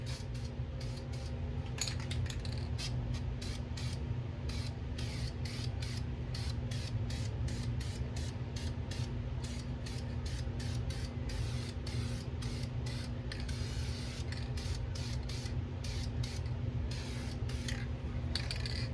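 Spray can painting front suspension parts of an 89 Mustang GT, short hissing bursts in a rapid stuttering series over steady background hum, close and fairly loud, no talk.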